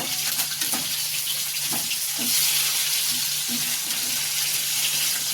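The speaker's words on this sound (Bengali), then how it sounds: "এই যে পেটি ভাজা হচ্ছে" Pieces of fish belly frying in oil, a continuous loud sizzle and bubbling with occasional light ticks and pops close at hand.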